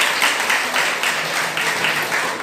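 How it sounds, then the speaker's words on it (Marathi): Audience applause at a career guidance motivational lecture at a college, a steady dense wash of many hands clapping that holds evenly for the whole stretch. "अशी जोरदार टाळ्या त्यासाठी पण"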